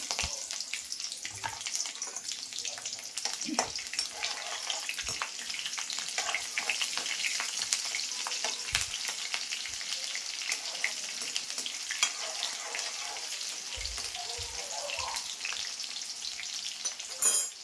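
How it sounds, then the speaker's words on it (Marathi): Green chillies frying in hot oil in a pan for Maharashtra kanda poha, a continuous close sizzle with scattered clinks and scrapes of stirring, no voices. "हे बघा, आता मिरची टाकते मी."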